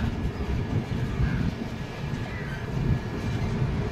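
Steady low rumble and rattle of a moving passenger train bound for Ayodhya heard from inside, continuous and loud with no voices.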